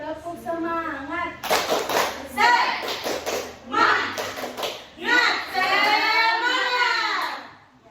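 A group of children performs the "tepuk semangat" rhythmic clap chant in a classroom, with patterned claps mixed with young voices chanting along close by.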